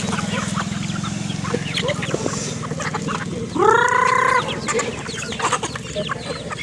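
Chickens cluck steadily nearby, with one louder drawn-out squawk rising above the flock and a low hum beneath.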